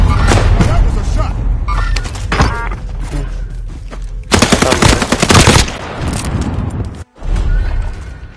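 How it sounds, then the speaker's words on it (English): Gunfire in a video game battle: bursts of rapid machine-gun-like shots and thuds, loud and close, with a dense volley in the middle, alongside players talking over the action. "That was a shot."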